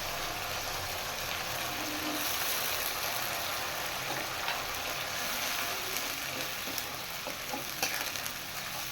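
Cumin paste hitting hot oil in a pan, giving a steady, loud crackling sizzle that runs without pause and with no voices.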